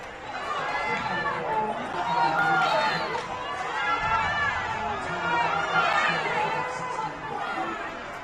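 A loud crowd fills a hockey arena during a varsity boys game, with sustained chatter and cheering swelling and ebbing in waves throughout.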